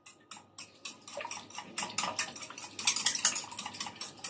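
Yogurt is whisked by hand in a pot, giving rapid, uneven wet sloshing and metallic scraping strokes that grow louder and busier as the whisking speeds up.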